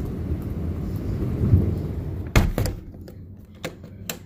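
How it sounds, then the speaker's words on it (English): Thunder rolls during a very severe thunderstorm, a low continuous rumble over steady rain, broken by a sudden loud crack and a few sharper knocks before it fades back to rain. "And then a bunch of thunder happens after that."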